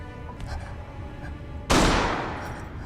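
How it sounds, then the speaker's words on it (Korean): A single loud gunshot in a film cracks out over low background noise, its blast trailing off with a lingering echo. "총성을 따라 극장으로 이동하는 제스"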